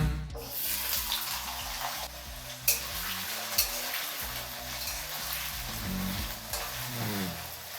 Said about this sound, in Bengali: তাহলে ওই তেলের মধ্যেই আমি আলু আর ফুলকপিটাকে ভেজে নেব